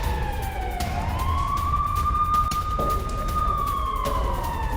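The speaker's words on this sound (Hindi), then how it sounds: "कई शहरों में बज रहे हैं सायरन" An air raid siren wails during a rocket attack alert in southern Israel, holding one loud sustained rising tone that slowly falls toward the end, steady over continuous background noise.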